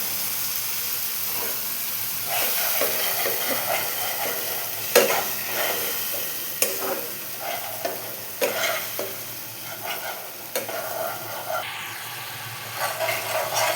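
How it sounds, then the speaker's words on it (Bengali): Chopped onion sizzling in hot oil with ready-made ginger-garlic paste and ground spices, a steady frying hiss broken by repeated scraping stirs, close and alone. "এবার দেবো পেঁয়াজটা একটু ভেজে নেব।"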